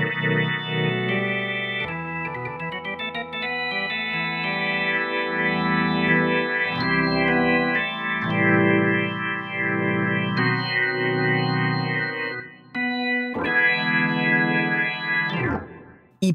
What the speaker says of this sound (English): Let's play an organ now.